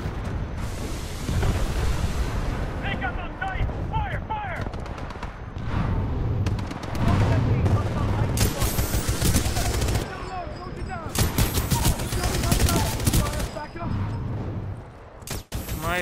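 Heavy gunfire in the video game Titanfall 2, dense automatic bursts and booming blasts layered over a continuous rumbling battle din, with a shouted voice mixed in.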